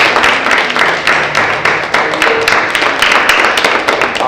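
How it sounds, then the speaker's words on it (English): Studio audience on a talk show clapping together, a dense, steady applause with a regular pulsing beat that holds at an even, fairly loud level throughout, no voices over it. "You guys give me an applause."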